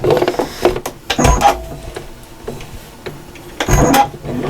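A sewing machine running in short bursts while sewing a zip seam for a fabric storage case. Two or three close whirring runs are separated by brief pauses with small clicks.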